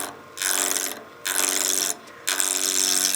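A spindle roughing gouge strips wood from a spinning workpiece on a woodturning lathe, rasping loudly in three long bursts separated by brief quieter gaps, with no one talking.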